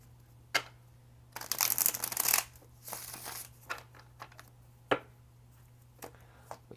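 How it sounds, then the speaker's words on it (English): Tarot cards being shuffled by hand: a long riffling burst, a second softer run, then a few sharp taps and snaps as the deck is squared, close and quiet. "Alright, one more shuffle."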